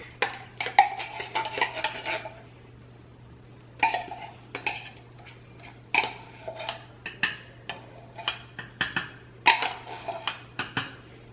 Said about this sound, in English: And I'm just going to stir this in.